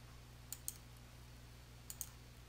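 Two quiet pairs of computer mouse clicks, each a quick double tick, sound faintly over a low steady room hum.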